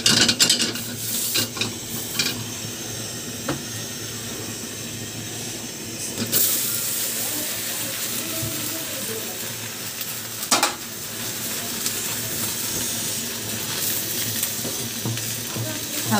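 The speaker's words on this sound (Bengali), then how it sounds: "হালকা হালকা আগুনে এইভাবে ভেজে নিব তেল ছাড়া" Jute leaves dry-roasting in a pan without oil over low heat, a steady hiss and sizzle with occasional scraping stirs and clanks against the pan, close and continuous.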